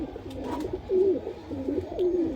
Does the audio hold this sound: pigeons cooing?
yes